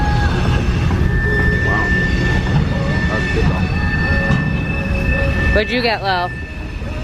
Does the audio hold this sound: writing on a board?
no